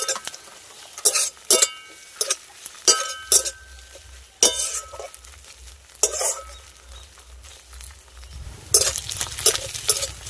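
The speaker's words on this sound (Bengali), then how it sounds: "আদা বাটাটাকেও ভেজে নেব" Ginger paste and onions frying in a pan, with repeated scraping and stirring strokes against the metal and soft clinks over a low sizzle, heard alone.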